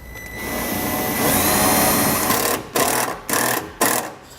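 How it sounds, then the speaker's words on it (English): A powered 1/4 inch nut driver runs self-tapping screws into vehicle sheet metal, a long loud whine followed by three short bursts with pauses between, close and without talk. "We're just going to screw it right into the sheet metal."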